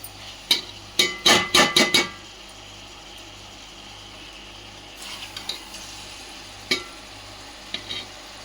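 A spoon clacks sharply against a pan several times in quick succession while Andhra-style gongura chicken curry cooks, then a faint low sizzle and a few scattered stirring taps follow.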